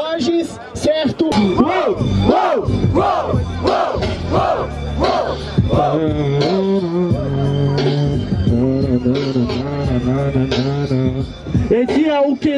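Crowd at a Brazilian freestyle rap battle in Barueri, São Paulo, roaring and chanting loudly and continuously for a rapper's rhymes, with rhythmic shouted bursts and voices mixed throughout.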